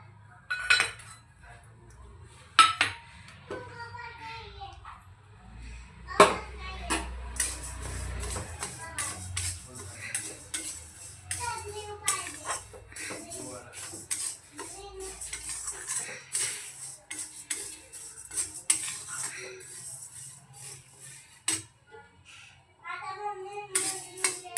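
Moth bean dal dry-roasts in a pan, heard mostly as scattered clinks and scrapes of a utensil against metal, irregular and fairly close, with occasional quiet talk.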